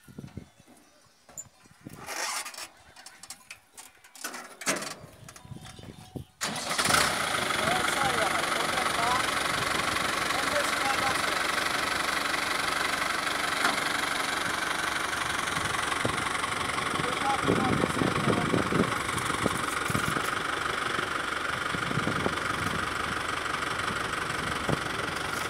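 A tractor rigged with a steel cable for pulling stones starts up after a few quieter seconds with voices, then idles loudly and steadily with a rough, knocking rumble.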